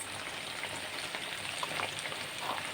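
Meat and peppers sizzle and crackle steadily on a saç pan, a close, continuous frying hiss with scattered pops and no talking.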